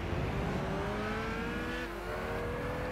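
Race car engine in Gran Turismo 6 on the Ascari Race Resort circuit: a loud, continuous revving drone with climbing pitch through a gear, close and steady, no talking.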